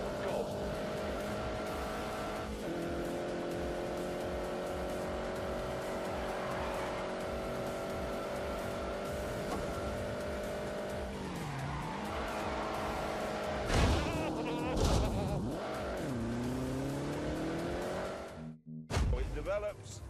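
A 330-horsepower car in The Grand Tour racing game drones steadily with engine revs rising and falling, then squealing tires and sharp skids near the end, while someone talks over the top.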